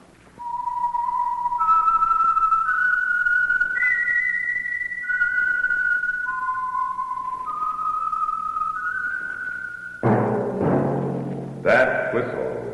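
A clear whistled melody of sustained, sliding notes, loud and close, the signature whistle of the radio program The Whistler, followed by a burst of music or voices near the end.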